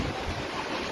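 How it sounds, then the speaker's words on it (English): Floodwaters in Talisay, Cebu rush steadily past, a loud, continuous broadband roar of churning water and wind with no breaks, strong enough to sweep vehicles away. "Many vehicles were seen being swept away by the floodwaters."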